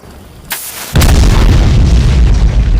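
A candle packed with gunpowder bursts in a sudden loud explosion, a brief pop followed by a heavy boom that hangs in a sustained roaring rumble, with no voices over it.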